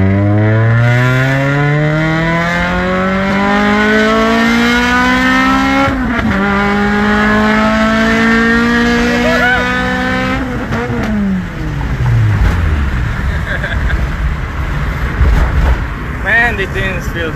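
Car fitted with new bolt-on mods pulling hard from second gear, engine note climbing steadily loud and close with a shift partway through, then revving on under occasional talk inside the cabin.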